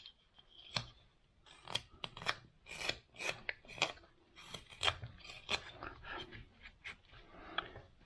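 A carving knife scrapes and shaves a wooden cowboy caricature bust, cleaning away cut marks and drawing lines around the neck in a series of quiet, close, irregular rasping strokes.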